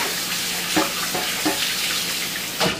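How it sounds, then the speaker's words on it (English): Tap water runs steadily over a pork shoulder in a sink, a continuous hiss with a few soft splashes and knocks as the meat is turned. "So we're just gonna run it really quick through the water."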